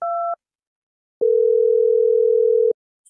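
A telephone call tone sounds: a short two-pitch beep, a pause, then a long steady electronic tone lasting about a second and a half, loud and alone with no talk.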